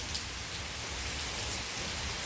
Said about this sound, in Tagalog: Nabutan na kami ng ulan guys